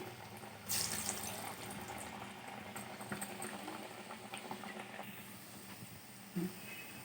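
Moong dal vadas bubble and sizzle in hot oil in a kadai, a close, steady frying crackle with a few louder splashes as pieces drop in.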